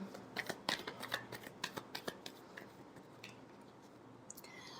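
Tarot cards being shuffled quietly, with a quick run of crisp riffling clicks that slows into a few scattered taps, heard alone with no talk.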